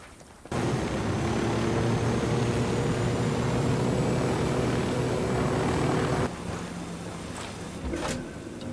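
Steady loud rotor and engine drone from a helicopter flying in the Ghost Recon Wildlands video game, holding level for about six seconds before dropping in intensity with a brief clunk near the end.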